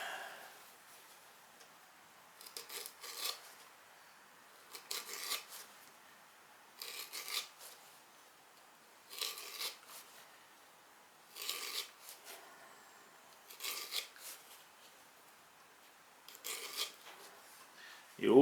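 A hacksaw blade scrapes across clay for sgraffito decoration in short, repeated rasping strokes, faint and close, with brief pauses between each pass.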